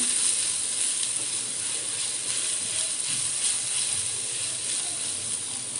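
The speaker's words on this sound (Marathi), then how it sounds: "हळद आणि धने पावडर आपल्याला या फोडणीमध्ये मिक्स करून घ्यायची आहे" Turmeric and coriander powder stirred into hot tempering oil for a potato sev cheese sandwich filling; a steady, close hiss of sizzling continues without a break and no one speaks.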